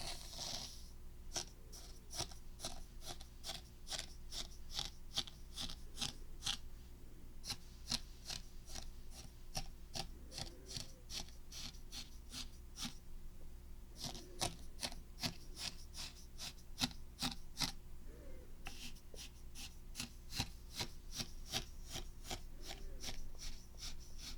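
Sand in a small zen garden is smoothed with a tool, giving soft, close, quiet scraping and ticking strokes in an irregular steady rhythm.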